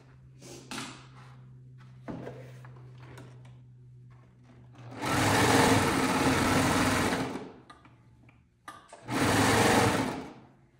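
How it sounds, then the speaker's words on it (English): A serger stitches a seam while sleeves are added to a strappy sundress, running in two long, loud, steady whirring bursts with quiet handling pauses between them. "I just want to make sure I'm catching everything in that seam allowance"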